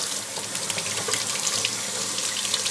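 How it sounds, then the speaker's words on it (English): Hot water pours from a tap into a sink in a steady, close hiss of running water with no voices. "Some hot water"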